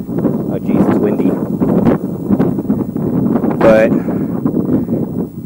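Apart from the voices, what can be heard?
wind blowing into the microphone outdoors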